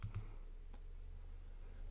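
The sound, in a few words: computer mouse clicking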